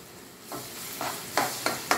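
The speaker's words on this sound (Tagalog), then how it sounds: "gisa na natin itong mga ricado sa ating buttered garlic seafoods" Onion and aromatics sauté in a pan for buttered garlic seafood, with four or five stirring scrapes that each set off a bright burst of sizzle and grow louder toward the end, no talk.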